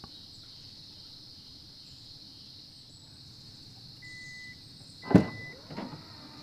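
A Santa Fe tailgate opens with a short mechanical thunk and rattle near the end, set against a quiet outdoor morning with a steady insect drone and faint birdsong.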